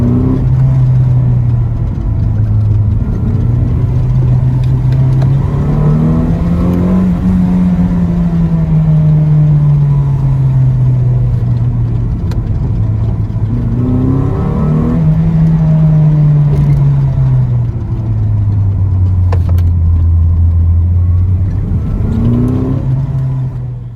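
A modified budget Toyota MR2 drives down a winding mountain road, its engine note droning loud and close, rising and falling in long smooth sweeps as the revs change through the bends.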